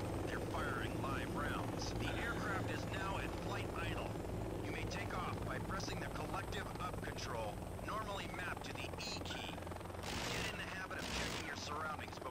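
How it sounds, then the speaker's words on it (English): A helicopter engine runs at flight idle in the video game Joint Operations, a steady whirring drone throughout, with spoken instructions over it and faint gunfire in the background. "The aircraft is now at flight idle."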